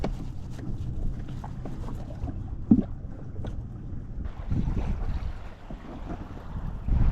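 Wind gusts rush across the microphone from a sailing canoe on the Caledonian Canal, with a steady low roar, soft water lapping and occasional knocks of the paddle against the hull.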